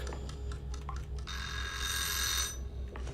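In the Hello Neighbor 2 video game, a kitchen alarm rings for about a second in a bright, sustained electronic trill after several faint clicks and small knocks, then it stops abruptly.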